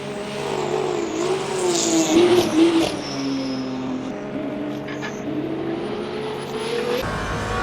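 Alpine race car in the Le Mans Ultimate sim roars along the Mulsanne Straight at Le Mans, engine held high and climbing through a gear change, loud and continuous, dropping off sharply at the end.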